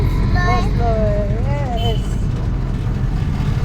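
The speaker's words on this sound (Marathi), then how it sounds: "आता आम्ही रिक्षात बसलोय." An auto rickshaw ride in town: a steady low engine rumble and road noise throughout, with people talking over it.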